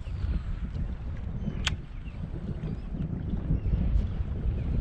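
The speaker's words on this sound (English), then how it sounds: "trying to beat the wind before it started to pick up, and it is now starting to pick up" Wind picking up over open water while aboard a small boat off Cat Island, South Mississippi: a continuous low rumbling buffet with a steady hiss and a brief sharp gust or knock, no talk.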